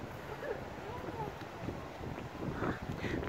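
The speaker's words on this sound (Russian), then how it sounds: "На море, судя по всему, шторм. Шторм. Флаги вон развиваются. Ветер дует." Stormy wind and waves on the Mediterranean Sea at a Turkish hotel beach, a constant roar of strong wind buffeting the microphone with surf rumbling beneath, loud and unbroken.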